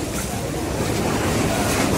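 River water surges and churns in a steady broad rush, loud and close with wind buffeting the microphone, near temples in Bangkok.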